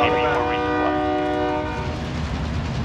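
A train passing in Call of Duty: Warzone on the 1984 Verdansk map, with a loud sounding horn at the start, then continuous rumbling and rail clatter that fades slightly, with faint voices in the background.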